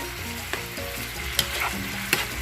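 Carne asada and fries frying in a pan over high heat, a steady loud sizzle with a few sharp clatters of a utensil stirring and scraping, no voices.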